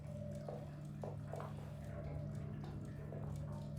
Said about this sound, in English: You can just hear just all the water.